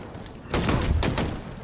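Enemy gunfire in the Halo Infinite campaign: a loud, dense burst of shots fills most of the clip. It comes in two surges separated by a short dip, with no speech over it.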